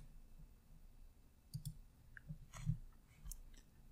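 Several faint, sharp computer mouse clicks come in a loose scattered run over a quiet background hum, with a couple of clicks close together.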